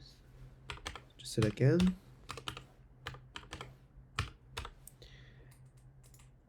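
Keys clatter on a computer keyboard while a password is typed, a run of sharp close clicks in quick irregular bursts, with someone speaking briefly between them.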